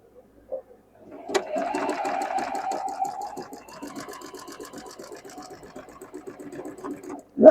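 A home sewing machine, started with the presser foot, runs a steady moderate stitching hum for several seconds, fairly quiet and close, ending with a brief thump.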